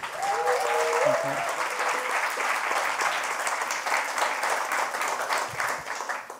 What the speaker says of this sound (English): Applause for Elia, please.